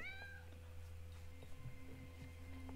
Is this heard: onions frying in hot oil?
no